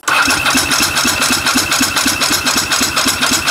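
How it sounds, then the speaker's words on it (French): A motorcycle starter cranks the engine with the throttle wide open during a compression test, in a steady rapid chugging rhythm, loud and close, with no voices. "tu ouvres les gaz en grand et tu actionnes le démarreur"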